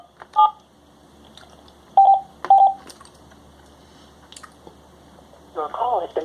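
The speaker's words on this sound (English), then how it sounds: "I'm calling Mrs. Katie Powerland." Touch-tone telephone dialing: a few distinct keypad beeps spaced out over several seconds, close and clear, with faint background noise and a softer burst of sound at the end.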